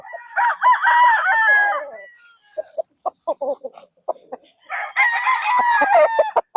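A gamecock crows loudly and close by at a gamefowl farm in Bustos, Bulacan, Philippines, followed by a run of choppy clucks, then crows a second time.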